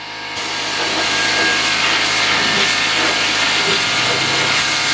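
A pressurized sprayer runs with a steady loud hiss, blasting gunk off Ford Toploader transmission parts in a workshop after brush and scraper cleaning; the broadband spray holds continuous and close after a brief start.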